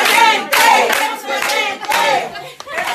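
A crowd applauds and cheers at a live evening gathering, the loud clapping coming in several surges, with whoops and shouts mixed in.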